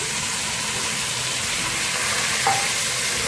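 Masala for Lahori chana with a splash of water frying and being stirred in a pan, giving a steady close sizzle throughout with a faint scrape near the end.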